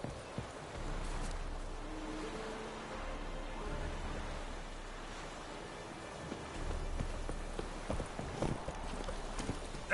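Roach, Geralt's horse in The Witcher 3, galloping: a continuous soft drum of hoofbeats under a steady wash of wind and ambient noise, moderately quiet throughout.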